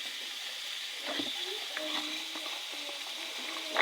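Pancit noodles frying and sizzling in a pan with carrots, a steady hiss with light stirring and scraping clatter throughout, close and moderately loud, no voices.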